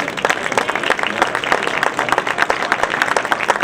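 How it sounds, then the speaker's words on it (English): A crowd at the Massachusetts Pavilion of a biotech industry convention gives a brief round of applause, a loose scatter of hand claps in a large hall, steady and moderately loud. "How about a big round of applause for the pavilion?"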